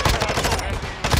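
Video game gunfire: rapid automatic bursts, loud and close, firing in a dense rhythmic rattle for about a second with no pause.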